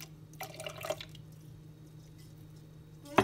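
Leftover coffee is poured into a keto drink, a soft liquid trickle and drips followed by a sharp clink near the end.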